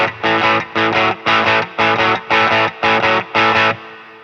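Electric guitar playing a light crunch, dirty-clean tone through a Line 6 POD Express, seven evenly spaced strummed chords in a steady rhythm, each cut short, loud and close.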